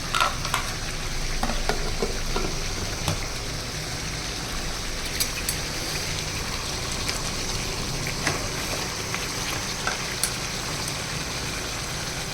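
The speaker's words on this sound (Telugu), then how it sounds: "అల్లం వెల్లుల్లి పేస్ట్ వేసాను, కలుపుతున్నాను" Ginger garlic paste fries in a pan and is stirred, producing a loud, continuous, dense sizzle with scattered sharp crackles and light scraping throughout.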